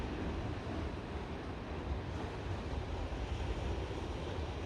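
Sea waves wash against the coast with wind blowing, a soft, steady, distant surf roar that stays fairly quiet throughout with no voices.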